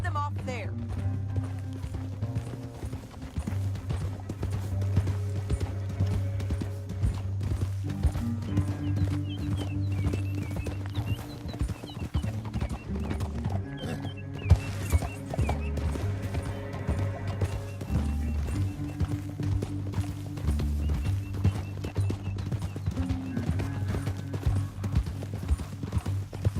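Rapid hoofbeats of horses galloping steadily in Red Dead Redemption 2 under a swelling orchestral score, with occasional neighs and a few spoken lines.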